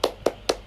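Three sharp, evenly spaced claps from children doing a rhythmic spirit clap in a classroom, close and crisp, with no talking.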